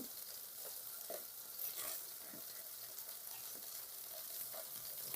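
Onion paste, green chili and turmeric frying in a pan while being stirred: a steady, faint sizzle with soft intermittent scraping taps, no talking.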